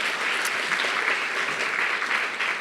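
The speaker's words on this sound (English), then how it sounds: "We're gonna give you a preemptive round of applause just on that." A conference audience breaks into steady, dense applause that holds evenly throughout at moderate loudness, with a faint voice barely present underneath.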